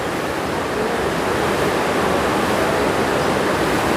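A mountain river flows between high peaks on the pilgrimage route to Shiv Khori, giving a steady, dense rush of water with no breaks.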